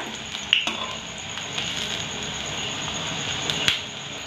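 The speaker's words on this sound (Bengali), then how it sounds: "এখানে ফুলকপির চপ প্রথমে যে দুটো দিয়েছি সেটা সুন্দর ভাজা হয়ে গেছে" Cauliflower fritters frying in hot oil in a home kitchen, a steady close hiss and crackle with a few sharp utensil clinks and scrapes against the pan.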